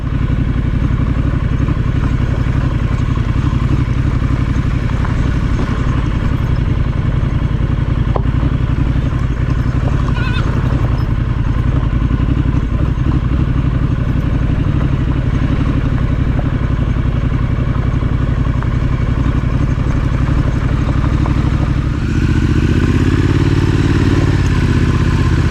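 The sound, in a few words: Triumph Street Scrambler 900 triple-cylinder motorcycle engine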